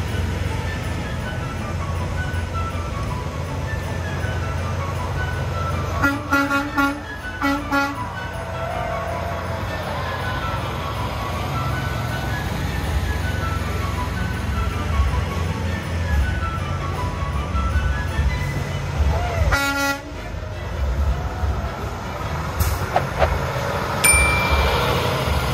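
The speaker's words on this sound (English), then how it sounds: "Watching the 3 Budweiser Clydesdale trucks depart." Three Budweiser Clydesdale trucks pull away, with engine rumble, a few horn toots and dinging over a steady outdoor background, while people talk at intervals.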